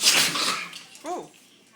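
A Rottweiler lets out a single close, sharp sneeze, followed a moment later by a brief voiced exclamation.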